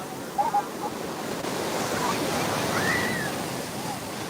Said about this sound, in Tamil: கடல் அலையும் சரி பாக்குறதுக்கு ரெண்டு கண்ணு பத்தாது